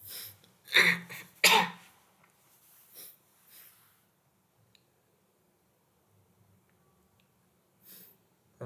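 Several hoarse coughs from a person with an inflamed sore throat, two loud bursts close together early on, then quieter throat clearing and breaths fading into near silence, with one faint cough near the end.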